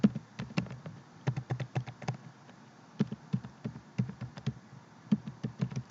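Computer keyboard being typed on in short bursts of crisp key taps with brief pauses between, close and fairly quiet, entering a search term with no voices.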